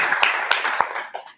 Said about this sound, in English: So, round of applause to Lynn.